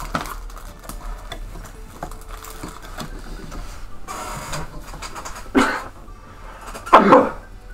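Two sharp, loud bursts land close together near the end of a quiet stretch, one short and one bigger, matching a person's sneeze at a desk with faint background clatter before it.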